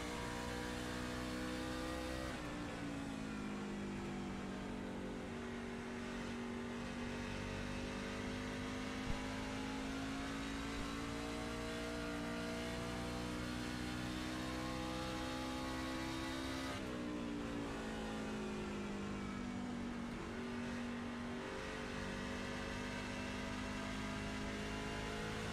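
The number 14 race truck's engine drones loudly and continuously, its pitch rising and falling as it revs through gear changes and corners on the Arizona oval, with no voices.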